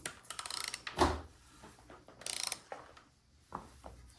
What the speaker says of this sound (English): we're gonna go ahead and put our torque wrench in